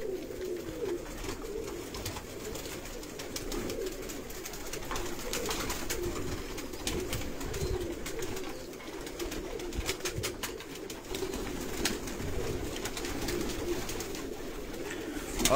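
Pigeons kept for sale in Sialkot coo softly in a crowded coop, their low murmuring calls overlapping continuously with rustling and shuffling noises close by.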